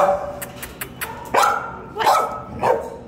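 A small dog barks in short sharp yips and bow-wows, several quick barks close by, with a few softer yelps between them and no talk.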